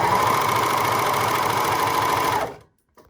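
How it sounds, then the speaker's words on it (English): An overlocker sewing machine runs steadily as it stitches a thread chain, a fast, even mechanical whir held at close range for over two seconds before it stops abruptly, leaving near silence. "we're now going to put our presser foot down and watch the machine make a chain"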